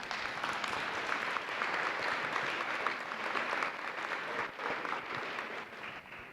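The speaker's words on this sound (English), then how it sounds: "I invite everyone to give them a round of applause." A round of applause from an online training audience for a project team, a steady broadband wash of many hands clapping at moderate level that tapers slightly toward the end, with no voices.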